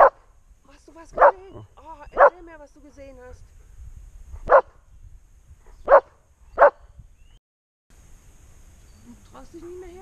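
Dogs running along a castle wall bark in a few sharp, separated yelps at moderate distance, with quiet gaps between.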